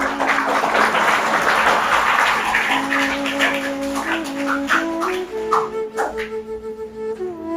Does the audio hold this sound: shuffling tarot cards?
no